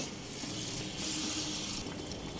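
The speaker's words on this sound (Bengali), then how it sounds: "এবার দিয়ে দেব আন্দাজ মতো গরম জল" Hot water pours into a spiced katla fish gravy in a pan, a steady splashing, hissing rush that swells briefly midway and then settles, close and alone with no voices.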